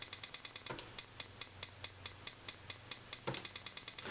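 Bright hi-hat hits on a Maschine tick along steadily, breaking into quick sixteenth-note repeat bursts at the start and again near the end.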